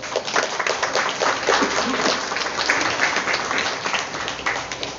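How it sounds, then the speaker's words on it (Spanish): An audience at a school ceremony applauds steadily, a dense, even patter of many hands at moderate distance that holds throughout without voices on top. "Brindémosle un fuerte aplauso,"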